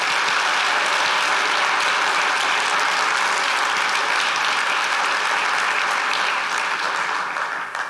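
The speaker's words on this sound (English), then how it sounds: "I think it's worth giving them a round of applause right now." Sustained, dense applause from a large indoor audience at an environmental event, loud and steady throughout before easing slightly at the end.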